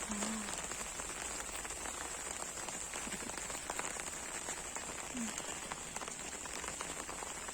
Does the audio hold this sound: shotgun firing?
no